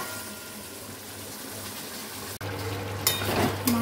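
Meat browning in a pan with onions already fried deep red, a steady low sizzle with stirring scrapes and a brief clatter near the end, fairly quiet and close, no voices.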